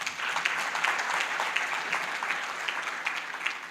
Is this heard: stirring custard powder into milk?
no